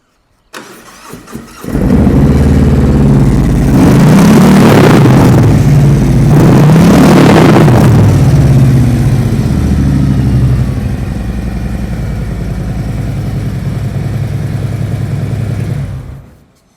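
A 2023 Harley-Davidson Road Glide Special motorcycle in factory black, low mileage, starts with a short crank, then its big engine revs loudly twice before settling into a steady, throbbing idle that cuts off at the end.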